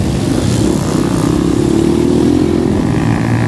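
Motorcycle engine revving loudly and steadily at close range on a jungle trail, a sustained buzzing drone that rises slightly in pitch partway through, with no talking.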